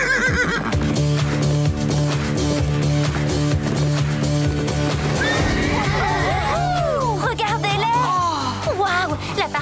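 A mare whinnies and neighs with rising and falling cries over a steady musical score and busy background sounds in an animated horse-riding competition scene.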